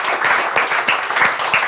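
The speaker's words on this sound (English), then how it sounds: "Could you please give a round of applause to our hosts, Marianne and David?" Applause for the hosts at a West Seattle evening event, a short, close burst of clapping hands with rhythmic, fairly loud claps repeating steadily for under two seconds.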